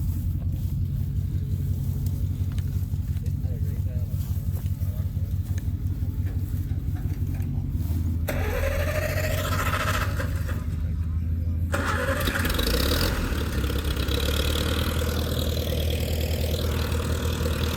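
At a tractor show and pull, a tractor engine cranks, catches and settles into a loud, steady low rumbling idle, with people talking nearby throughout.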